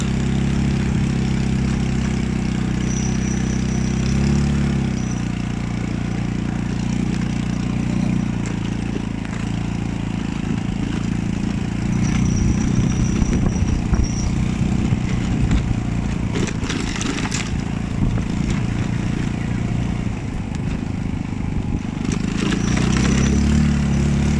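A truck engine idles steadily with a low, constant rumble, a faint higher whine drifting in and out over the continuous drone.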